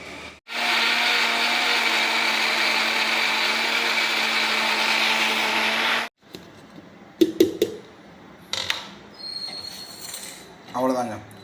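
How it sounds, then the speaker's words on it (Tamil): A mixer grinder grinds roasted coriander and mint for thuvayal with a loud, steady high whine for about six seconds, then cuts off, leaving faint clinks and handling noises. "இப்போ அரைச்சிக்கலாம்"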